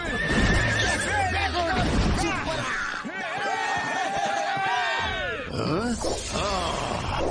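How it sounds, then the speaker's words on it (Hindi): A horse gives loud, wavering neighs and whinnies in a Motu Patlu cartoon, set against busy background music and effects, with repeated rising and falling calls over several seconds. "चल मेरे घोड़े।"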